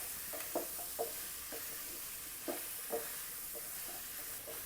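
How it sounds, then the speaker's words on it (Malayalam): A spatula scrapes and stirs food sautéing in a home kitchen pan, making several distinct scraping strokes in an irregular rhythm over a soft, steady background sizzle. "നല്ലതുപോലെ ഒന്ന് ഇളക്കി കൊടുക്കുക"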